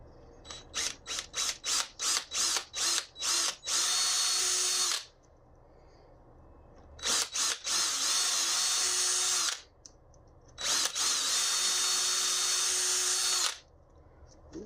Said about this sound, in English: I guess I do have to drill all the way through on this one.